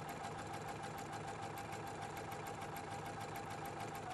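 A Husqvarna Viking Platinum Plus sewing machine runs a taper stitch, its needle chattering in a fast, even rhythm over a steady motor whir, close and continuous with no talk.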